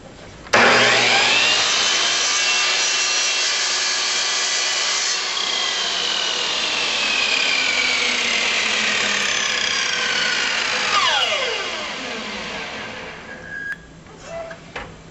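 Saw blade cutting through a wooden leg piece with a fresh blade, a loud sustained whine and rasp that ends as the blade winds down with a falling pitch, then a quieter tail of shop noise.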